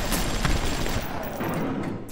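Gunfire rattles in the video game BioShock, a loud burst of rapid shots up close that thins out partway through.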